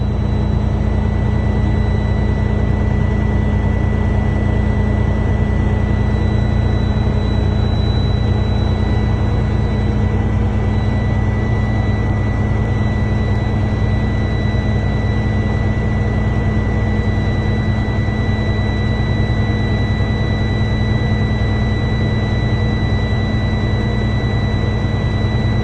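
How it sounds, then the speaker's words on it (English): Truck engine idling steadily at 1200 rpm during an air brake compressor test, a loud continuous droning hum with a constant tone and no variation throughout. "Run my engine at 1200."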